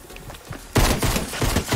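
A burst of rapid automatic gunfire erupts in Fortnite, starting abruptly after a quiet moment and continuing as a dense, rattling volley of close shots.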